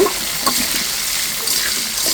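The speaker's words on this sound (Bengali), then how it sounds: "এখন আমি পনিরে ছেড়ে ভেজে নেব" Paneer cubes fry in hot oil in a pan with cinnamon sticks and a bay leaf, giving a steady, loud, close sizzle that holds evenly throughout with no talking.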